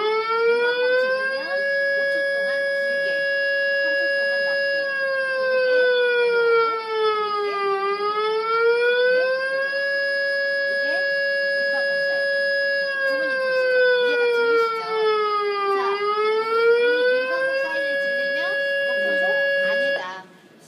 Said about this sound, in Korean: 먼저 민방고. 민방고 들어보세요.